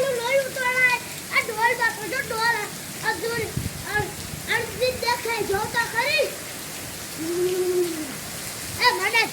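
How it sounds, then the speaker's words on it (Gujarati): Heavy rain falls steadily in a continuous wash of hiss, while voices talk over it throughout. "એવો વરસાદ ભેગા લેતા આવ્યા"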